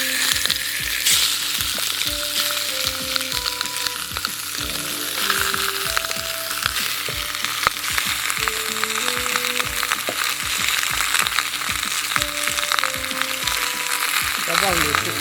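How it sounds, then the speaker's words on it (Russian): Quail fry in a kazan over a campfire, a continuous close sizzle and spatter heard under melodic background music. "Отправляем перепелок в казан."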